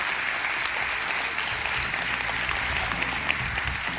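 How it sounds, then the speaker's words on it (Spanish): Sustained applause from a theatre audience, dense and steady clapping filling the room at a loud level throughout. "que se sienta de nuevo ese aplauso para saber que estamos ahí vivos"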